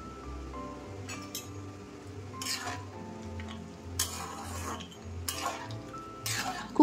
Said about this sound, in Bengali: তারপর লাউয়ের সাথে বড়ি খুব ভালো করে মিশিয়ে নেব।